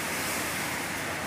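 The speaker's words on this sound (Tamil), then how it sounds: "இங்கே நல்லா மழை பெஞ்சிட்டு இருக்குங்க." Rain pours down outside in a loud, unbroken wash of hissing noise, close and constant throughout, with no talking over it.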